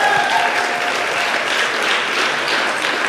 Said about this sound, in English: So everyone, please give him a round of applause.